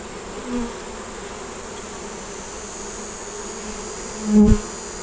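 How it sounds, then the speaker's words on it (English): A steady, dense drone of many bees buzzing close by at an open hive during inspection, with a couple of brief louder bumps. "And bees, see them hanging down from the bottom."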